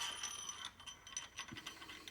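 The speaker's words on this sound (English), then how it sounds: "First head bolt's coming out." Ratchet clicks loosening a head bolt on a 6.0 Powerstroke engine, quick light mechanical ticks at close range in a quiet workshop.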